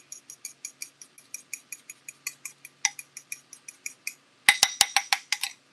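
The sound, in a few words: whisking egg yolks in a bowl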